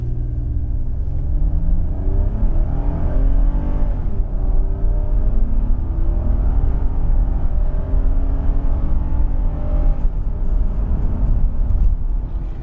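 A Toyota Highlander's engine revs hard under acceleration, a loud, steady rumble whose pitch climbs and shifts through gears, heard alone with no talking.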